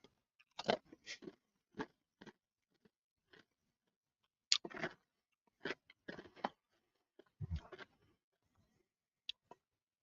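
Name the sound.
crunching Lay's kettle cooked chips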